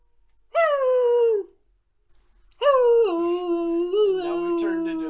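People imitate a howl in a podcast studio: one long wavering howl, a brief pause, then a second, longer howl that wobbles and breaks as it trails on. The voices are close and loud, with no ordinary talking.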